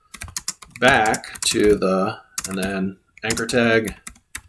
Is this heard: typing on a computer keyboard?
yes